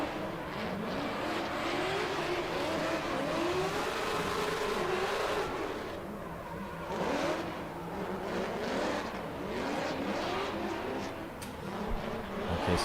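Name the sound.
BMW V8 drift car engine on track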